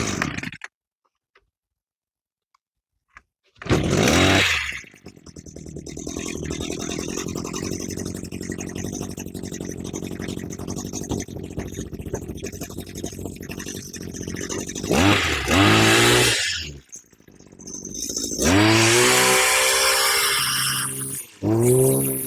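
A Dolmar LT 250 string trimmer's small two-stroke engine is pulled and fires up, then runs at a steady loud buzz for about ten seconds, with revving bursts and a stutter near the end before it revs again.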